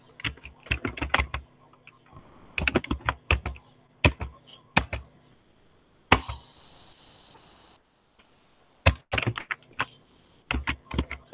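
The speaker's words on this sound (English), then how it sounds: "I have to type slow. Somehow it is not able to take fast typing." Typing on a computer keyboard in bursts of quick, close key clicks separated by short pauses, with a longer stretch of quiet in the middle before the tapping resumes.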